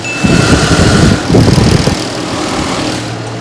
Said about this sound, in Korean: 그리고 엔진 소리 한번 들어보도록 하겠습니다.